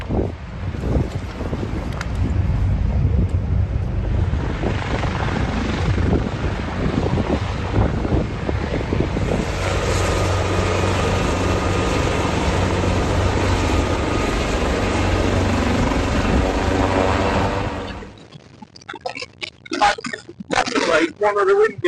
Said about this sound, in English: One of the windier ones today.